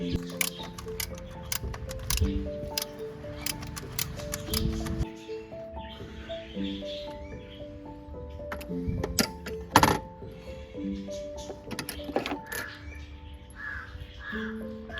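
A socket wrench works on a car spark plug, with close metallic clicks, ratchet taps and scraping clinks in irregular bursts over a low background hum.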